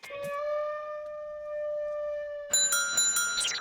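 A doorbell chimes at a home entrance, a sustained bell tone ringing out for a couple of seconds, then a brighter cluster of chime notes and a faint voice near the end.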